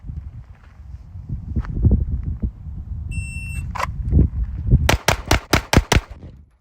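Six rapid rifle gunshots from a rifle fitted with a Holosun SCRS micro optic crack out in quick succession near the end, sharp and loud against a rumbling outdoor background, preceded by a brief electronic beep.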